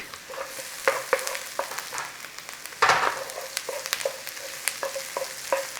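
Onions and garlic fry in a pan with a steady sizzle, broken by repeated sharp spatula taps and scrapes as they are stirred. One louder clatter comes partway through.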